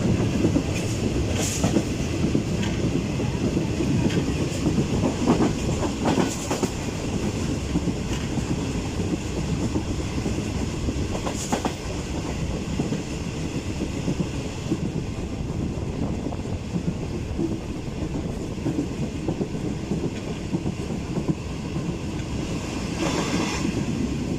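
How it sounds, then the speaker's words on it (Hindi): The 41 UP Karakoram Express brakes near a marshalling yard, heard from inside the last coach: a constant loud rumble with faint wheel clatter and occasional squeals, with wind noise and no voices. "मार्शिंग यार्ड कानूनी हाट के नज़दीक ट्रेन को फिर ब्रेक लग गई है।"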